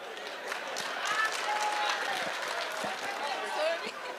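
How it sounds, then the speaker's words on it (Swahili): A crowd at an outdoor public security meeting in Kakamega applauds with steady, moderately distant clapping. A voice talks over the applause. "Asante, apigwe makofi"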